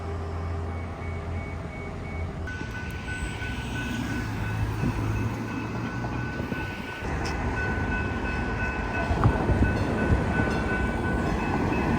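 A Union Pacific or BNSF train rolls by steadily with a continuous rumble and rail noise, fairly close, no talking.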